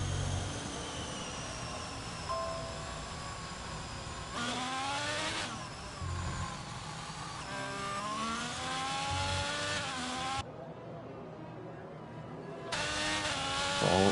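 An Alfa Romeo Formula 1 car on a qualifying lap at Spain in a racing video game, its high-pitched engine screaming steadily with rising and falling revs through gear changes, close and continuous.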